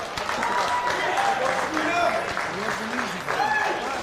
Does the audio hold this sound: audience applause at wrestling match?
yes